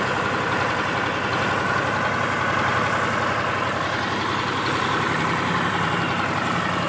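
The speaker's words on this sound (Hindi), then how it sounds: "इसके बाद ये ट्रैक्टर ये भी स्टार्ट हो गया" A farm tractor engine runs steadily at idle in a village field, a dense continuous low rumble and mechanical drone holding at an even level throughout with no talk.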